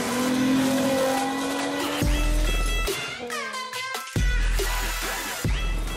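A 1969 Nova Super Sport 396 roars in the video game Forza Horizon 5, its engine revving up and dropping through gear shifts with sharp surges and brief cut-outs, loud and close.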